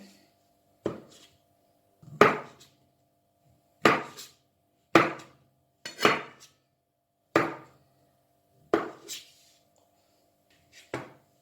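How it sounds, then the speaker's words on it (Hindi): A knife cuts mushrooms on a board with about nine separate, sharp thuds spaced a second or so apart, close and clear against near silence. "एक और मशरूम की कटिंग करके मैं आपको दिखाती हूँ।"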